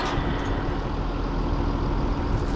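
A long truck's engine idles out in the outback, a steady, dense low rumble that stays even throughout, close by and without talk.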